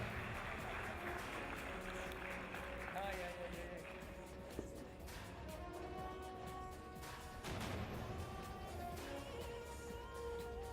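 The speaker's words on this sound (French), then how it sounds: "vous pouvez les applaudir très fort" A boxing gala crowd applauds two boxers and their staff, a sustained wash of clapping from the audience mixed with music and an announcer talking over it.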